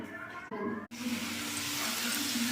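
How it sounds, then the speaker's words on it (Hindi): Chopped carrots frying in a pan on a home stove for a matar paneer recipe, a steady close sizzle that swells after two brief dropouts and continues loud to the end. "देखिए मेरे गाजर है वो फ्राई हो रहा है"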